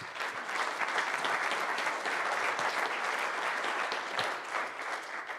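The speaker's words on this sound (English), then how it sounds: "I want to give them a round of applause for what they've done" Steady, dense applause from a conference audience fills the room evenly, a close wash of many hands clapping at once with no voices on top.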